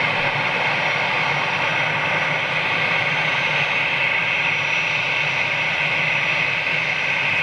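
Qatar Airways flight QR22 departs Manchester as a constant, loud jet engine roar with a steady high whine, sustained without a break and with no voices.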